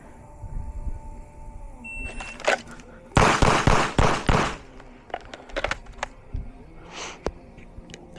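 Gunshots on a firearms qualification range with hit-factor scoring, a burst of several sharp cracks in close succession followed by a few scattered, quieter shots and bangs, fairly near and loud, with faint voices around.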